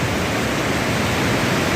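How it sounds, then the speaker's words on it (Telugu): Water rushes out of the Mallimadugu reservoir in a loud, steady, unbroken roar, close and continuous, with no voices. "మల్లిమడుగు జలాశయము చూడండి వాటర్ ఎలా పోతుందో"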